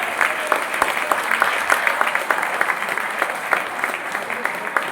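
An audience at a Jain sangh chaturmas gathering claps steadily, a dense, continuous applause that holds at an even level throughout without any talk over it.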